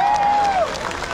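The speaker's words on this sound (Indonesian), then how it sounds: "Tepuk tangan buat semuanya." A crowd applauds at a large Anies Baswedan campaign rally, a brief burst of dense, steady clapping with a sustained tone sliding downward over it.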